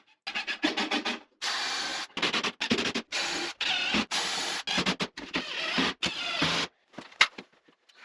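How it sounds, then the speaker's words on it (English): A cordless vacuum cleaner runs in short, loud, close bursts of harsh rushing noise with brief gaps between them, cleaning up after installing IKEA Billy bookcases as built-in shelves. "Oh yeah, there's that cordless vacuum coming in clutch again."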